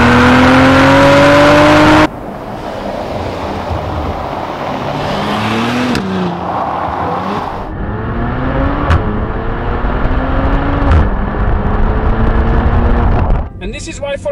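A Maserati engine revs hard and pulls through rising gear changes, loud and close, with a sharp cut near the end.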